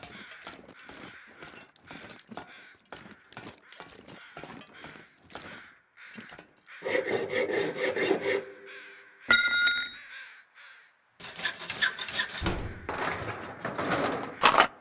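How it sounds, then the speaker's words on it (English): Crows cawing in the Timberwolf Mountain game, a rapid series of short caws repeated for several seconds, then harsher, louder squawking bursts and noisy flurries, fairly close and without talk. "Listen to the crows squawking."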